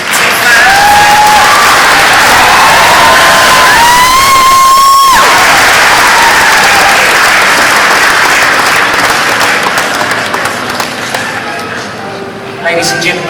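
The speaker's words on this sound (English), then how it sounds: "Ladies and gentlemen, one more round of applause" Applause and cheering from a large crowd at the Miss Samoa NZ pageant, loud and continuous throughout, with a long held vocal tone early on and the clapping thinning slightly near the end.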